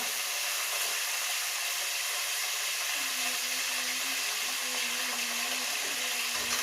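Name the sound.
curry leaves with stems sizzling in hot oil tempering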